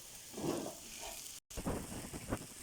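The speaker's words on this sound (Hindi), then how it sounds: "इसी तरह हम रोस्टेड होने तक हलवे को पकाएंगे" Halwa with dry fruits roasting in a pan, a soft steady sizzle broken by the scrape and shuffle of a spoon stirring it, quiet and close, with one brief dropout partway through.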